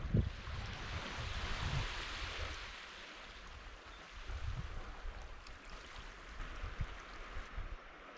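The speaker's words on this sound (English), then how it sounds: "it's a really remote, tranquil beach and a really special place" Waves wash onto a remote, tranquil beach on a rugged coastline, a steady soft surf hiss with gentle swells rising and falling, mixed with light wind buffeting the microphone and no voices.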